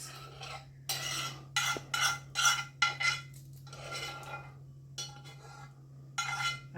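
Sweated garlic and onion go into a pot of tomatoes for a homemade marinara sauce, with a spoon clinking and scraping against the pot in irregular bursts, close and soft over a steady low hum.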